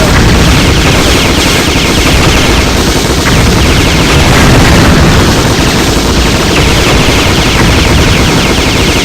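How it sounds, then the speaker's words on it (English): A heavy machine gun hammers away in the Metal Slug 3D video game, a continuous, loud, dense stream of rapid automatic fire with booming impacts, lasting throughout with no pauses. "Heavy machine gun"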